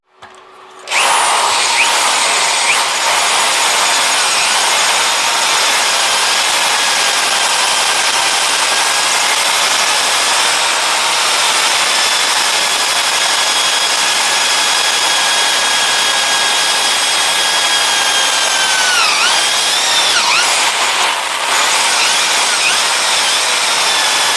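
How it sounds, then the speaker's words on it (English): A power drill whines steadily and loudly while drilling out a car wheel lock, holding a high, constant pitch with a brief wavering dip near the end. "let's go ahead and continue drilling out until we reach the blue line"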